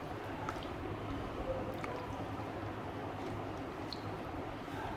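Claypot chicken rice with three cups of hot water is given a quick stir in a rice cooker pot, producing faint, continuous wet squishing and liquid sloshing with no voices.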